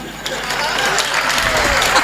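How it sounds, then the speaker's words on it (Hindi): Audience applause at a Hindi kavi sammelan poetry gathering, a steady dense wash of clapping running through the whole stretch, fairly loud and even with a few sharper claps standing out. "तालियां होती"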